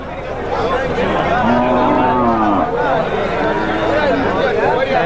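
A cow moos several times, with long drawn-out calls rising and falling, amid the general bustle and chatter of a busy cattle market.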